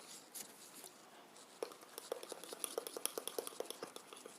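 A spoon stirs crunchy peanut butter cake batter in a mug, with faint, quick clicking and scraping strokes in a steady rhythm after a quiet start, close by and without voices.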